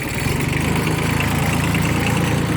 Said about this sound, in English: let's go back into first, raise up the mower